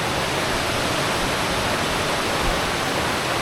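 The River Swale in the Yorkshire Dales rushing powerfully, a dense, loud, unbroken roar of fast water filling the whole sound with no voices.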